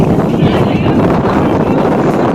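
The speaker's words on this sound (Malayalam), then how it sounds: "നല്ല കാറ്റ് തണുപ്പുണ്ട്" Steady, loud wind in hilly forest country buffeting the microphone with continuous low rumble and roar throughout, no clear gaps.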